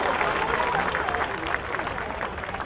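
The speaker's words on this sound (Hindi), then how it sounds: "जोरदार ताली होनी चाहिए आप सबकी ओर से।" Applause from a large outdoor crowd at a Bihar Diwas ceremony at Gandhi Maidan, honouring a second-ranked student. It is a steady, dense wash of clapping that runs the whole length at an even level.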